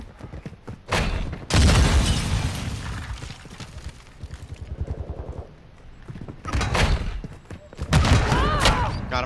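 A planted charge blows in a Call of Duty: Modern Warfare II search-and-destroy match. Loud broadband blasts and bursts erupt in waves, mixed with rapid gunfire and brief voices between the loud stretches.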